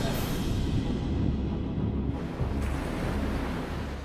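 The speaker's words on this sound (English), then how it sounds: "Caught between the heavy surf and a powerful undertow" Heavy ocean surf on a Pacific shore, a continuous broadband roar of breaking waves with strong wind buffeting the microphone, loud and close throughout.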